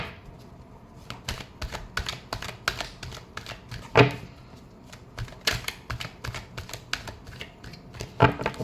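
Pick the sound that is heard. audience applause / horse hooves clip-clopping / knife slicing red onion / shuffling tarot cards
shuffling tarot cards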